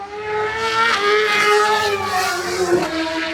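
Superbike motorcycles racing past at full speed on the Knockhill circuit in Scotland, a loud high-revving engine scream that swells as the bikes close in, then drops in pitch as they flash by.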